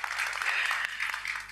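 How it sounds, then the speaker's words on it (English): Short burst of applause from an audience at a policy and deliberation challenge final, honoring the presenting teams, steady and fairly loud. "Another round of applause to them."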